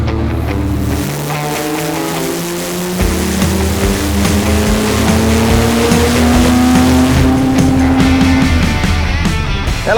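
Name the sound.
diesel car with Holset HX35 turbo accelerating under boost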